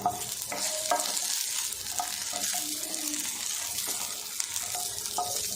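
Ginger, dried red chillies and small onions sautéing in a pan for onion peanut chutney, a low steady sizzle broken by repeated scraping and stirring clinks of a spatula.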